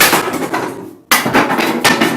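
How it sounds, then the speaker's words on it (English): A hammer strikes a piece of hard oak being shaped into a bed slat. The blows are loud, close and rapid, with a brief pause before the pounding resumes. "The old trusty hammer."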